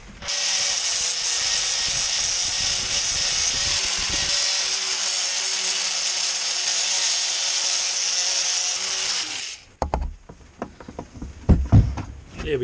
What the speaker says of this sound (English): So I think all we need to do now is cut this chain off